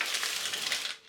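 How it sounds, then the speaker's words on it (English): Granulated sugar poured into a mug in a home kitchen while making coffee, a brief close, steady gritty rattling hiss that tapers off at the end, with no talking. "putting my sugar in the mug"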